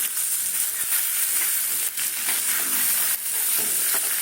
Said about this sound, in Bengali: আর এই যে জিরে আছে জিরেটা দিয়ে দিচ্ছি